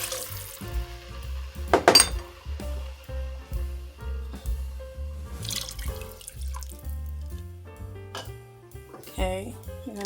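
Five cups of water run from a kitchen tap and pour into a pot for homemade chicken rice soup, a splashing, gurgling stream with drips and clinks, under some talk.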